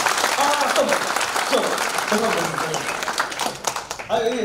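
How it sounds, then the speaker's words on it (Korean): Audience at a talk seminar in a natural history museum claps loudly for several seconds, with voices and shouts mixed into the dense applause. "박수 크게 한번 주세요"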